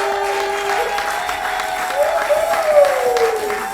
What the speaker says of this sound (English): let's give one more big round of applause for Qween